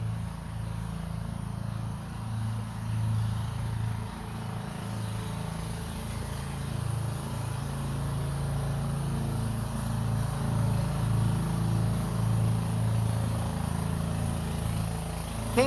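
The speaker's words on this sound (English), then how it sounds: "Can't get away from the lawnmowers." Lawn mowers run steadily in a neighboring backyard, a continuous loud engine drone with a low rumbling hum that holds without pause throughout.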